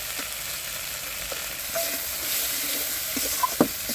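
Spices fry with ginger and cumin paste in a pan, a steady close sizzle running throughout, with occasional soft taps and scrapes of a stirring utensil near the end.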